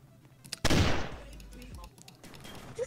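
Burst of gunfire in a shooter video game, a loud sharp onset followed by a sustained rattling volley lasting about a second, then fading into quieter in-game noise with a few faint clicks.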